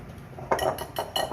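A spoon stirs sugar into cornbread mix in a bowl, giving about four quick scraping, clinking strokes in a steady rhythm, close and fairly clear with no voices.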